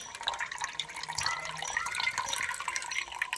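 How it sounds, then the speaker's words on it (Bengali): Water squeezed out of soaked biuli dal, faint trickling and dripping with small wet splashes in a quiet kitchen, no voices. "এইভাবে চেপে চেপে যেটুকুনি জল আছে সব বের করে নেব"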